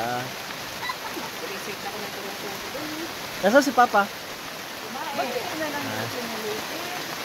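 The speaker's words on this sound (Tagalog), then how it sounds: "Yun o, pumapatak na naman ang ulan." Steady rain hisses throughout, a soft continuous patter, while a voice briefly speaks and a few short louder knocks sound in the middle.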